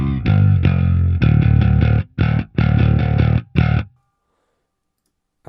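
Bass guitar played through an STL Tones Graviton amp plugin with no effects, loud gritty distorted notes in a choppy riff with short gaps between them, then a sudden stop into silence.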